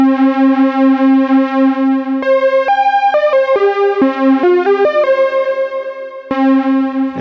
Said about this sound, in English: that's kind of how you can get a really thick sort of string sound for an expander or for your 5U system